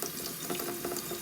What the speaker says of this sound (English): You're just going to run the water on the soap to keep it damp